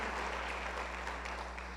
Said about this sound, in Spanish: Dale fuertes ofrendas de palmas al Rey.